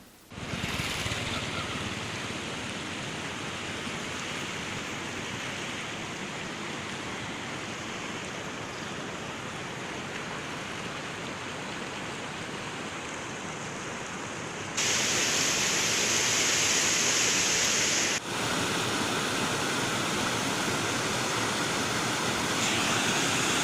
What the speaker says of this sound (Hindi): एनीकट की दीवार में छेद होने से कई जगहों से पानी निकल रहा है।